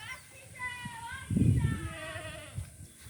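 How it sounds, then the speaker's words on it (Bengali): A goat calling for its mother bleats once in a short, fairly close burst midway through, with faint insect-like buzzing and soft ambient noise in a rural spot beside a bamboo grove and river. "ছাগল ভ্যাঁ ভ্যাঁ করছে, ছাগলের মায়ের ডাকছে।"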